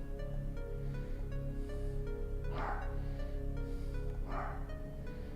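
Two muffled dog barks, spaced a couple of seconds apart, heard indoors from a distance over a steady hum of music and background noise.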